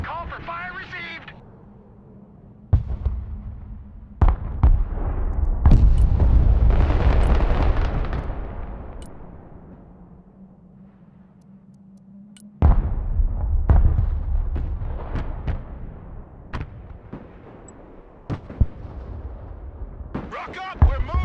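Artillery fire in the Broken Arrow war game booms in several heavy blasts with rumbling tails, loud and near, while radio-style voices talk in between.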